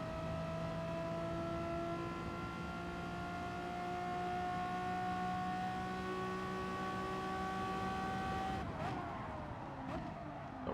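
Race car engines in Gran Turismo Sport, including a Bugatti Veyron, drone as steady high engine tones for most of the stretch, then sharp shifts and a bump near the end, moderate in level without speech.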